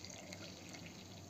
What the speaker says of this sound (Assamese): চাহটো ঢালি ল'লোঁ কাপত